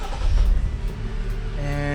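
A Jeep Wrangler JL Rubicon engine cranks and catches, settling into a steady idle with a low rumble that continues to the end.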